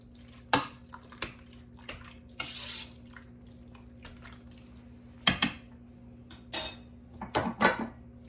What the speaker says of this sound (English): I'm gonna give all these ingredients a stir.